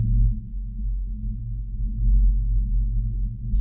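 Low, steady rumbling hum of Moonshine Arch's rock vibration at its first mode, a deep continuous drone with slight swells and no other sounds.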